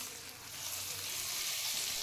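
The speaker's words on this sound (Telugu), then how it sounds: "మనం బాగా కలుపుకున్నాక తాలింపు పెట్టిన నూనెని తీసుకొచ్చి ఇందులో వేసుకోవాలి." Hot tempering oil hitting amla (gooseberry) chutney, giving a soft, steady hiss and sizzle that builds slightly and carries on throughout, faint and without talk.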